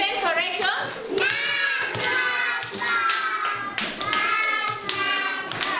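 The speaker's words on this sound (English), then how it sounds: "Clap hands for Rachel." Hands clap for Rachel in a children's group activity, a few quick claps mixed with taps and lively kids' voices, with speech throughout.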